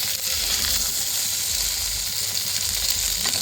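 Paneer frying in a pan gives a loud, continuous sizzle that stays steady throughout, with no voices.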